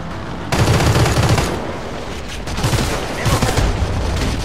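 Rapid, dense gunfire rattles loudly and continuously in the Crossfire shooter game, with sustained automatic bursts and no clear pauses.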